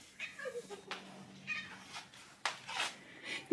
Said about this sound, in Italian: Lui miagola e passa.